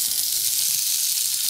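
Bacon-wrapped venison cubes sear in a hot pan, giving a steady, loud sizzle and crackle of rendering fat that continues evenly without pause.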